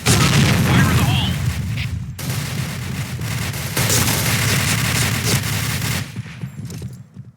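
A grenade explodes in Point Blank, a loud booming blast amid continuous rapid gunfire in a hospital map, with a voice shouting over the battle noise.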